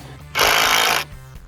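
An impact driver with a socket adapter gives one short rattling burst of hammering during a chicken tractor build, close and loud, with quiet hum before and after.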